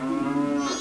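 A cow in the barn of the Romani Ranch in Majora's Mask gives one loud, close moo, steady and drawn out before rising slightly at the end, with nothing else heard.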